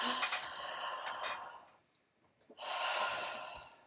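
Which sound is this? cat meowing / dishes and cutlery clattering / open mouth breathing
open mouth breathing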